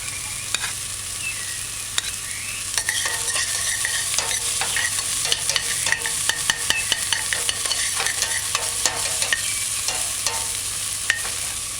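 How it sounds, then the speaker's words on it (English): Mashed garlic sizzles and fries steadily in a pan while being stirred for a vegan bok choy stew, with frequent scraping clicks over a continuous crackle. "Stir it in, allow it to saute."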